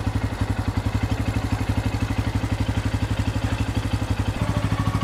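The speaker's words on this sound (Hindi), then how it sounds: "तो अभी जो सुन रहे हैं आप वो बाइक का इंजन का साउंड है," Close-up Bajaj Pulsar N160 motorcycle idling after an oil change, a loud regular chugging beat that holds steady throughout with slight unevenness near the end.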